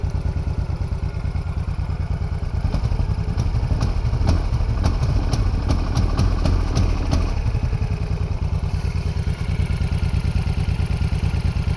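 A carbureted motorcycle engine, alongside a Ninja 250, runs rough at idle close by, with a steady chugging pulse and a stretch of uneven clattery revving in the middle.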